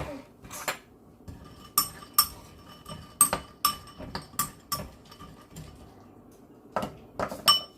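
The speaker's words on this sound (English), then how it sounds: "I'm gonna go ahead and give it a stir." Chicken thighs in a slow cooker get stirred, a utensil clinking and scraping against the ceramic pot in a string of sharp, irregular metallic knocks, close and fairly loud with quiet gaps between.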